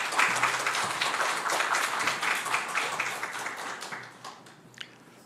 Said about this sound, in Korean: 우리 김태훈 선교사님 나오실 때 큰 박수로 환영해 주시면 감사하겠습니다.